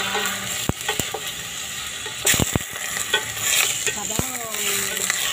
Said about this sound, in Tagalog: Igisa ko lang po mga kamansi para ano po.